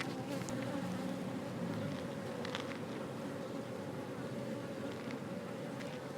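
Steady, dense buzzing of many calm honeybees on a hive frame close by, continuous and even throughout with no voices.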